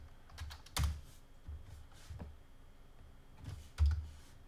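Keys on a computer keyboard clatter in scattered bursts as someone types a formula into a spreadsheet, with a couple of heavier key thumps standing out among lighter, quieter taps.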